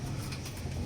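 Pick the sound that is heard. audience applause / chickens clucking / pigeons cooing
pigeons cooing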